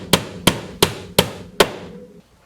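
Five sharp, evenly spaced hammer blows strike in a steady rhythm, close and loud, each ringing briefly before the next, with silence after the last.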